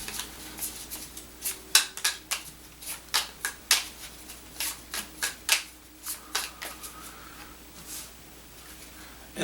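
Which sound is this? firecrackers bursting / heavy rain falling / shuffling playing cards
shuffling playing cards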